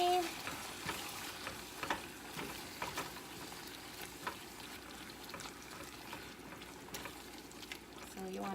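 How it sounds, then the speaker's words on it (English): Ground beef browning in a pan for homemade hotdog chili, a soft steady sizzle with occasional scraping and stirring clicks, fairly quiet and continuous throughout. "Our ground beef is browning."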